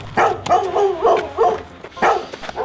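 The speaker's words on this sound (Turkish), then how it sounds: "Nerede 9 tane köpek geliyor bak" Several dogs bark and yip in quick irregular bursts, fairly close and loud, with brief gaps between the barks and no talking.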